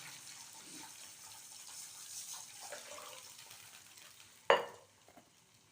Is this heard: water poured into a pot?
yes